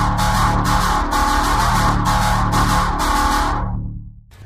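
A bright future house synth patch from Native Instruments Massive, loud and dense, pulsing in a rhythmic chopped pattern before cutting off and fading near the end.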